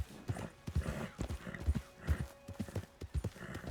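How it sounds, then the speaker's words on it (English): Horse hooves clip-clopping in Red Dead Redemption 2, a slow, evenly spaced run of about six close, soft thuds at a walking pace over a quiet outdoor ambience. "Oh, a horse. A horse."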